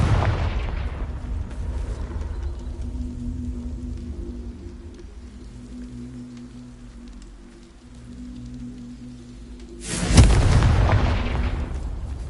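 A Confringo fire spell bursts in Hogwarts Legacy, a sudden loud blast that erupts after a stretch of low rumbling ambience and leaves a roaring, crackling tail.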